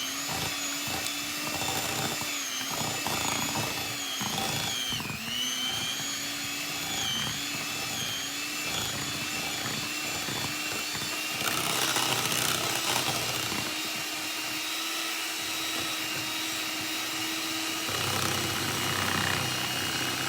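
Electric hand mixer whirring steadily as it blends cream cheese and sugar for mini pumpkin cheesecakes, a loud continuous motor drone with slight pitch wobbles, running close by for the whole stretch with no talk.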